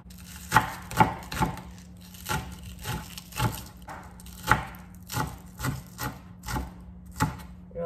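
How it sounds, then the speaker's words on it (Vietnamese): Green onions are sliced with a knife on a wooden board, a close, rhythmic series of crisp chopping knocks about twice per second, some louder than others, with a faint steady hum behind them. "Ớt Lan sắc hành lá luôn nha."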